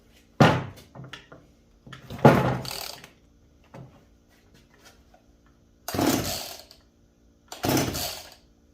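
Jonsered chainsaw starter cord yanked four or five times, each a loud rasping whir with a brief engine cough, separated by pauses and small handling knocks; the saw does not catch, and no one speaks.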